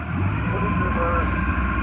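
A boat's outboard motor runs in reverse while backing out of weeds that clog its water intakes, giving a steady, close, droning hum with a constant pitch and no break across the whole stretch.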